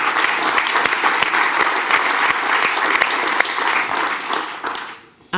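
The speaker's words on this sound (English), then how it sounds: "that deserves a round of applause" Audience applause at a Mac admin conference talk honoring a founder of AFP548.com, dense steady clapping from a crowd that holds level for about five seconds, then thins and fades out near the end.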